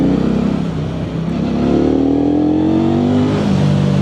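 A KOVE 625V Lancer motorcycle engine pulls hard under acceleration while riding, a loud steady drone whose pitch climbs smoothly over several seconds with no talk over it.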